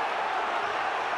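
A boxing crowd at a fight between Billy Joe Saunders and Willie Monroe Jr. sends up a steady, diffuse roar of many voices, holding at an even level throughout.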